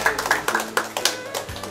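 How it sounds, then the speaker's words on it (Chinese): A small group claps hands in a quick, uneven patter at a Mid-Autumn Festival gathering. The claps are close and sharp, with a faint steady tone underneath. "来鼓掌一下"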